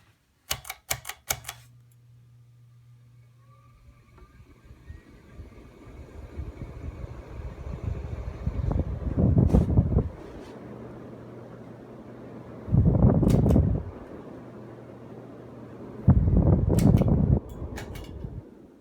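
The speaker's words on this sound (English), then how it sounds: "it has a startup sound" A 1980s Casablanca Lady Delta ceiling fan starts up with a low steady motor hum and airy whoosh, broken by several loud bursts of mechanical noise as it runs up to speed.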